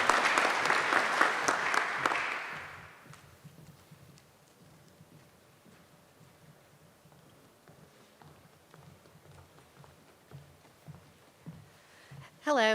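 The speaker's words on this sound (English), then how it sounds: "she's a phenomenal student and deserves a round of applause" Applause from an awards-evening audience for an honored student swells loudly over the first few seconds, then fades into a quiet room with scattered low murmurs before a brief burst at the end.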